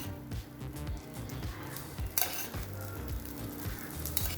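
Garlic dosa batter sizzles in oil on a hot griddle, a close steady crackling hiss with a few metallic scrapes and clinks of a utensil.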